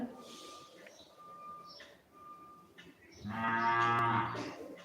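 A cow lets out a long, loud moo near the end, after a quieter stretch of low background sounds and faint talk.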